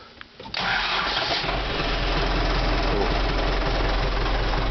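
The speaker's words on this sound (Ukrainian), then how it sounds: "Заводиться, працює на 700 оборотів." An MTZ Belarus 892 tractor's diesel engine cranks on a geared starter, catches after about half a second and settles into a steady, loud idle around 700 rpm, heard close and continuous with no talk.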